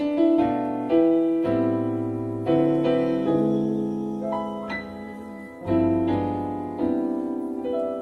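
Rich, jazzy thirteen sharp eleven keyboard chords struck one after another, each ringing out briefly before the next stab, played clearly and fairly loud.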